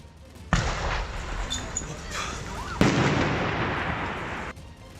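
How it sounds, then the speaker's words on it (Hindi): Two sudden loud bangs from burning vehicles exploding, each followed by a long roaring rumble and crackle, going off nearby. "बीच बीच में उन गाड़ियों से धमाके की आवाज भी सुनाई दी।"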